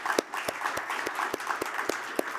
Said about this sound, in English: Maybe we'll give ourselves a round of applause.